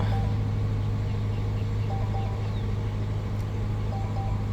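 A car engine with its check engine light on idles steadily with a low, even hum and faint background noise; no distinct starting crank is heard, just continuous running.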